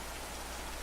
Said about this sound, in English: the soft echo of rain continues around you